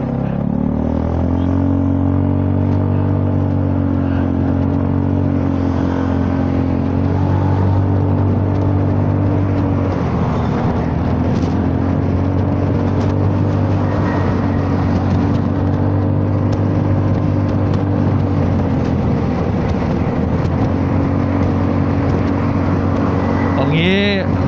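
A Honda Forza 300 scooter cruising on an open road, its engine holding a steady, continuous drone mixed with wind rush, with no clear gaps or revs.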